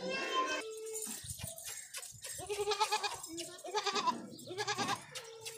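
Young Beetal goat kids of Sahiwal line bleat repeatedly in a farm pen, several loud, wavering calls overlapping in irregular bursts, with faint voices in the background.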